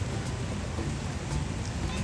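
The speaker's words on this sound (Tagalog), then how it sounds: "Habang umuulan, medyo madilim ang panahon." Steady rain falls outdoors in Boracay under dark skies, a dense continuous hiss with a low rumble beneath, fairly loud and even throughout with no talking.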